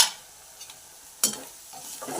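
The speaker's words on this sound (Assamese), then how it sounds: "এইফালে মুনুলে ভাজিকণো বনাই লৈছোঁ।" Greens frying in a pan, a soft sizzle punctuated by a few scraping stirs of a spatula against the metal.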